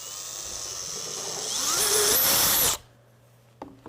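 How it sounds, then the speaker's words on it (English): A power drill fitted with a 3/32 bit bores into wood, a loud steady whine that rises in pitch as it cuts, then stops abruptly, followed by a couple of faint clicks. "I'm just going to drill for the top hole."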